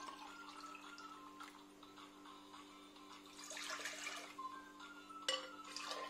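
Water being poured into a cooking pot for making asida (polenta) porridge, a faint, uneven splashing and trickling over a steady low hum, swelling in the latter half of the clip.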